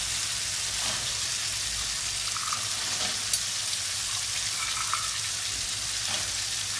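Peas frying with masala over low heat for palak paneer, a dense continuous crackling sizzle with faint occasional stirring taps.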